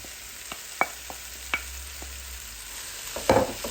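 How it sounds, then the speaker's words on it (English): Okra stirred into softened onions and tomatoes in a frying pan, a low sizzle under a few scattered scrapes and taps of a spoon, close and quiet, with no talking. "So add the okra now."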